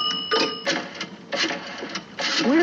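An old payphone being used in an old recording: a series of mechanical clicks and whirring bursts from the dial, ending with a coin dropping into the slot. Moderately loud and heard alone, with no talking.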